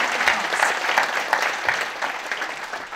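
An audience at a regional pastors' conference breaks into applause, a thick continuous wash of many hands clapping together, fairly loud and unbroken throughout.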